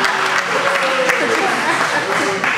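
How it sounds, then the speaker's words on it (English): Studio audience applause welcoming a guest onto a talk show stage, a steady, fairly loud wash of clapping mixed with crowd noise and some voices throughout. "Let's see if we can muster up a good hand of applause for him to come in."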